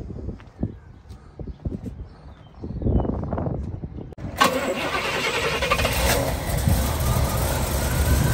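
A 1975 Pontiac Grandville Brougham convertible's engine cranks with a few low chugs, then fires up midway and settles into a loud, steady idle rumble, heard close with no talking.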